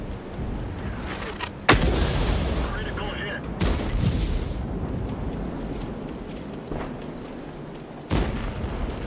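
Tank cannons fire in the World of Tanks video game with several sharp, loud booms spaced seconds apart over a rumbling battle background, while someone talks.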